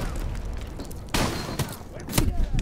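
Gunfire from the video game Call of Duty: Modern Warfare Remastered, a sharp close burst followed by a second loud volley, over a steady backdrop of game noise.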